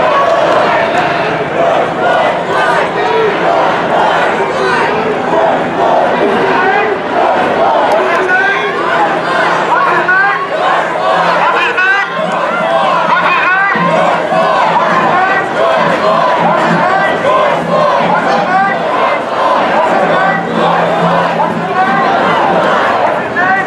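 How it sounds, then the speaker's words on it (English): Thousands of protesters march through Seattle streets at night, a dense, loud crowd chanting and shouting continuously with layered voices and cheers. "Thousands of people, and they're still marching despite the curfew."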